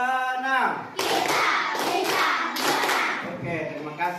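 A class of children claps in unison during a counting clap game, with a short voiced lead-in followed by several loud bursts of rhythmic hand claps filling the room.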